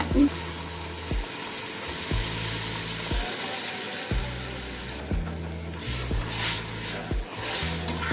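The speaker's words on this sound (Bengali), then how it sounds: "এবার দেবো গরম জল।" Red amaranth greens frying in a pan give off a loud, steady sizzle as hot water is poured in, with faint repeating knocks underneath throughout.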